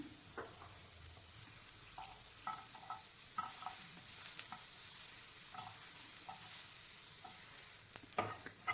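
Onions frying in a pan for ridge gourd curry, a soft continuous sizzle with scattered light clicks and scrapes of stirring, faint and close, with no talking.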